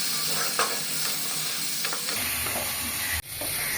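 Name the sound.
spiced fish masala sautéing with a little water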